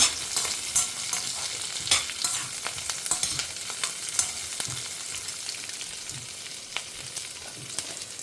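Onion, green chilli and curry leaves fry in hot oil in a pan, giving a steady crackling sizzle with scattered pops and the scrape of a stirring spoon, heard close and without talk.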